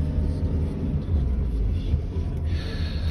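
A VW Crafter van engine pulling in second gear on a UK road, a steady low rumble with the hum of the moving vehicle, heard from inside the cab and fairly constant in level.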